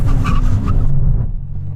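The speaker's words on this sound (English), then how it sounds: "Let's do a brake test from 60 miles an hour." An Aston Martin V12 Vanquish brakes hard from 60 mph, a loud engine and tyre roar with brief squealing that quickly drops to a lower steady rumble as the car slows to a stop.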